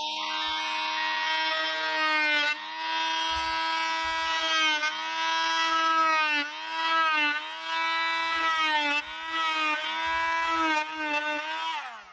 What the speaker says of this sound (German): Darum werde ich das mit der oszillierenden Säge wieder etwas größer schneiden.